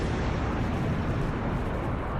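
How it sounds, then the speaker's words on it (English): Recorded footage of a huge non-nuclear explosion of 2,750 tons of material gives a dense, roaring, sustained rumble that fills the whole stretch at steady loudness. "A Rue explosion shown in Manhattan, one of the most powerful non-nuclear explosions on record."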